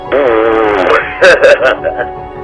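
A narrator imitates raspberry noises with the voice, a few short buzzy lip-flapping bursts after a stretch of sustained tonal vocalizing, close and fairly loud.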